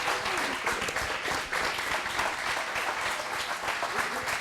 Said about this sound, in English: everybody should stand up and give Jess a massive round of applause